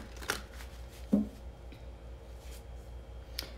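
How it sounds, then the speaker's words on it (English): Tarot cards being pulled from a deck: a few soft flicks and slides, close and quiet, spaced apart over a faint background hum. "I'm just going to keep pulling some cards here"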